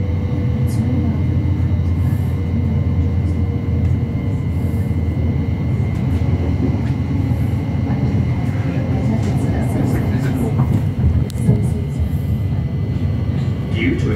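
Inside a Thameslink Class 700 train running near Elephant and Castle, a loud, steady low rumble and hum carries on throughout, with faint squeals and rattles and an automated announcement voice over it.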